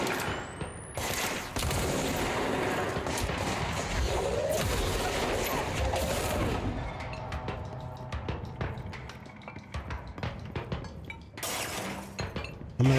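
Gunfire and shattering impacts from a video game action fight, with dense bursts of shots and breaking crashes over continuous loud combat noise for the whole stretch.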